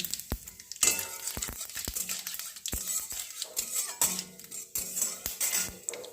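Panch phoron spices sizzle and crackle in mustard oil in a pan while making cauliflower singara, with steady frying hiss and occasional utensil clinks and stirring close by.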